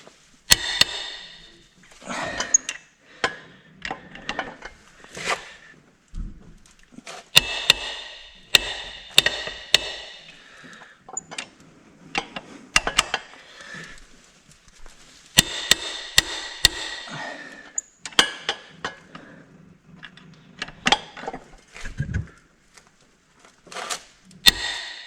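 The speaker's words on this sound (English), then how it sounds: "that'll be the noises of it actually, the pulley actually moving onto the crank." A Mini R53 crank pulley being worked onto the engine crankshaft produces a series of sharp, close metallic knocks and taps in irregular bursts, with quiet gaps between them.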